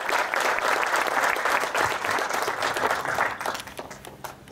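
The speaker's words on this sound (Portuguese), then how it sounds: "Más fuerte el aplauso, don Willy, el pionero de Naranjal." A crowd at an industrial park inauguration ceremony claps enthusiastically in a dense, sustained burst of applause that tapers slightly toward the end.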